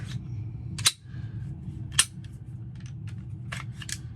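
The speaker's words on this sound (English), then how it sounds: "So I'm gonna pull the Glock apart here." A Glock pistol is stripped with a few sharp metallic clicks and snaps spaced irregularly, close and crisp over a low background hum.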